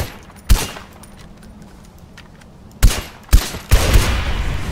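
Gunfire from the video game Far Cry 4: a few sharp, loud shots spaced out over a low background rumble, ending in a denser burst.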